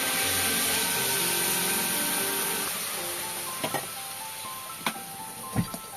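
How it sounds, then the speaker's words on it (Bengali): Hot water is poured into a pan of frying shyama rice for pulao. A loud, dense hissing sizzle gradually quiets, and a few sharp clinks of a utensil break through near the end. "এবার আমি এই গরম জলটা এর মধ্যে ঢেলে দেবো"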